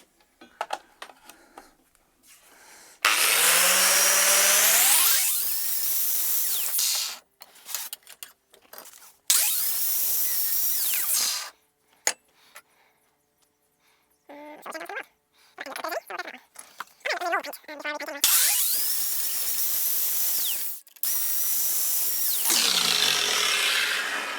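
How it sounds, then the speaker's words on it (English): A power tool fitted with a cut brush strips paint from the ends of steel pieces for a van step, in several loud whining bursts separated by quiet pauses and clanks, close by. "cut brush just to remove paint from the ends of these"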